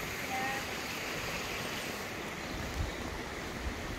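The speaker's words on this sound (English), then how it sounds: "Oh, a little shady waterfall." A small, shady waterfall at Dolgoch Falls in mid Wales pours in a steady, broadband rush of falling water, close and continuous, with a voice faintly present.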